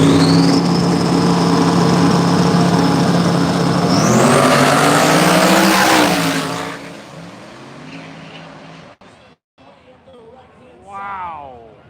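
Loud race cars roar at a dirt racetrack during a live no-prep racing event, a continuous engine howl that climbs in pitch, then drops away before a fainter car revs near the end.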